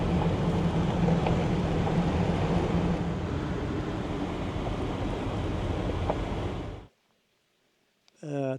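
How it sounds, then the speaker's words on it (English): At Fountain Springs, beside the remains of the Rosewood Weir, a waterfall pours into a pool in a steady, close roar mixed with cold wind, then cuts off to silence before a short voice. "waterfall and the pool at the bottom"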